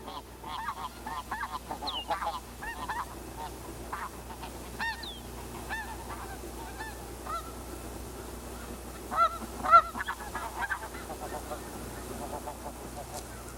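Arctic geese honk repeatedly at a nesting site, a scattered chorus of calls near and far, rising to a louder burst toward the end, over a steady background hiss.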